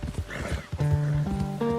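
Horse in the Red Dead Redemption 2 video game, hooves clopping on the ground, then a loud rising neigh and whinny, close, with faint talk underneath.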